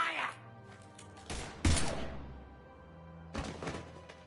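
Gunfire in the video game Mass Effect 3, a few sharp bursts and heavy thuds separated by pauses, fairly loud over a low game background.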